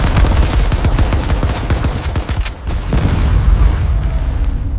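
Rapid bursts of gunfire and heavy booms pound continuously as weapons are fired at a giant python, loud and dense with overlapping shots.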